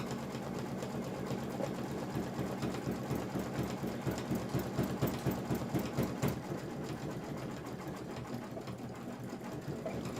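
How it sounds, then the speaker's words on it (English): A sewing machine runs steadily for about ten seconds, stitching Kimberbell Pumpkins & Potions fabric pieces together, with a fast rhythmic needle chatter that speeds up and slows slightly, close and fairly loud, with no talking. "I'm just going to start grabbing stuff and sewing it together"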